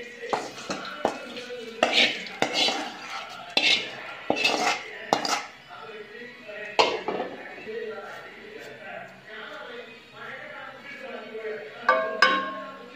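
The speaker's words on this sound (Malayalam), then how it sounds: "നമുക്ക് അല്പം കടുക് താളിച്ചിടാവുന്നതാണ്." Mustard seeds sputter and pop in hot oil in a pan, tempered for a Kerala-style beef curry: close, irregular crackles and clinks of a utensil against metal, loud at first and then thinning out.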